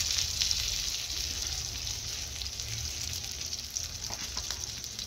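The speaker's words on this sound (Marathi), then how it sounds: "इकडे चाललंय माझं मच्छी तळायचं काम" Steady, dense sizzling of semolina-coated, spice-rubbed fish frying crisp on a griddle, continuous and fairly close throughout with no voices.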